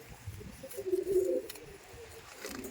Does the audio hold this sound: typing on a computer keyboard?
no